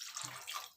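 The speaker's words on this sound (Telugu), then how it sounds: "కొంచెం వాటర్ పోసుకుంటాను" Water poured into a pot of mutton curry, a short splashing pour up close lasting under a second.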